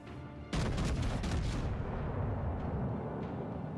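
Naval gunfire in World of Warships: Legends, a sudden heavy cannon blast followed by a rumbling, decaying boom and a few fainter distant reports.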